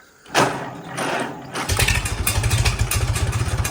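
An old tractor engine cranks briefly, then catches and settles into a loud, steady chugging idle with a rapid rhythmic pulse.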